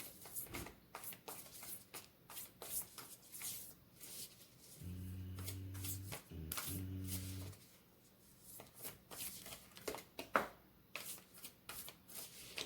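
Tarot cards are shuffled by hand in a quick, steady riffle of papery flicks and slaps that runs on and off throughout, close and moderately loud, alongside a low steady hum in the middle.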